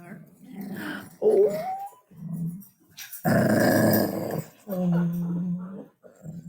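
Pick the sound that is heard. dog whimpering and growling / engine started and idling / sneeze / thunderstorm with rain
dog whimpering and growling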